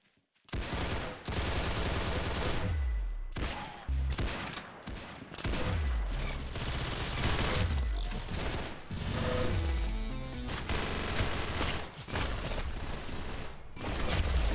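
Rapid bursts of gunfire in the Roblox shooter Arsenal, played on a controller, fire in repeated volleys with brief pauses, loud and close, dominating the whole stretch.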